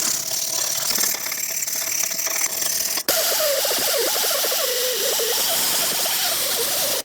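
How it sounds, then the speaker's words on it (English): Wire brush scrubbing a rusty rear brake hub on a 2018-2024 GMC Terrain, a steady, loud, harsh scraping rasp that runs without a break, with a short pause partway through. "a wire brush should do the trick"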